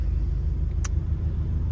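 Porsche 718 Cayman engine on its first drive, a steady low rumble running throughout at an even level, with one brief high click partway through and no talking.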